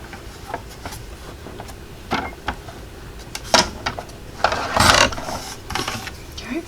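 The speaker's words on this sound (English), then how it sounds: "I'm going to hold it right there, put my blade down, sink it, and cut it." A paper trimmer blade slices through card stock for a handmade Christmas wreath door card: a few light clicks and taps, then a short scraping cutting burst near the end, close and fairly quiet.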